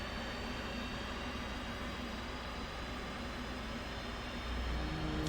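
An F-18 Hornet jet engine or auxiliary power unit drones in a steady, whining hum with a faint high tone, swelling slightly louder near the end.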